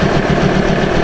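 Ford Transit high-roof, extended-wheelbase van with a 3.2-litre diesel engine idling, a loud, dense, steady rumble up close for a brief moment.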